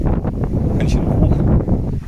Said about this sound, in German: jetzt kommt noch der Wind, merkt ihr es?